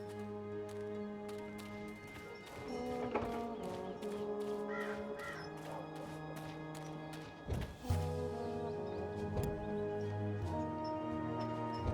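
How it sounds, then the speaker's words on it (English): A talking bird in the video game Dreamfall Chapters caws repeatedly, harsh crow-like calls over a continuous musical and ambient game background, with a few sharper knocks and no speech. "About that talking bird that's bothering you."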